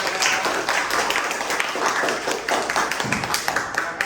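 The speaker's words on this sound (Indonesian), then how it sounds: "tepuk tangan dulu semua" A school class claps together in a burst of brisk, uneven applause, close by, lasting a few seconds with a voice faintly underneath.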